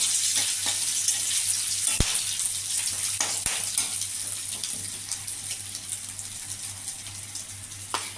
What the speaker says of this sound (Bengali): গোটা জিরে দিয়ে দিলাম এটাকে একটু নেড়ে ছেড়ে আমি সব মশলাগুলো দিয়ে দেবো